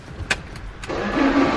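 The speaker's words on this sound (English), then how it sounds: "It's a funny sounding starter motor." An E36 BMW with an M40B18 engine being built for drifting, its starter motor cranking with an unusual tone; a brief click leads into a steady whirring crank up close, with no talk.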